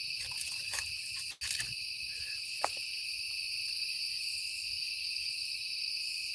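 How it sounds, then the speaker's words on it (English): Crickets chirp at night in a continuous, high, shrill trilling chorus that holds steady throughout, with a brief dropout and a faint click along the way. "I hear the crickets."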